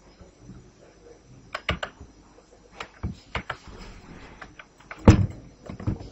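Keys tapped on a computer keyboard while entering student records into an SQL table, a sparse run of separate clicks and taps with one louder thunk near the end, close and fairly quiet.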